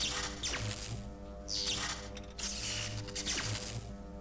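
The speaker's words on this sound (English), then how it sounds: "when we turn that on, you can hear the electricity running" Electricity runs through an electrified floor in the Disney Infinity 3.0 video game, heard as a continuous crackling, buzzing hum with bursts of sharp sparking and mechanical clicking, steady throughout and with no talk.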